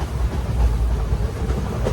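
Sleeper class carriage of the Poorna Express running on Indian rails, a steady loud low rumble with faint rhythmic clatter from the wagon, no voices.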